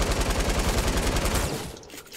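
Sustained rapid light machine gun fire in a battle royale video game, a dense continuous rattle of fast regular shots for about a second and a half, then cutting off and fading into quieter ambience.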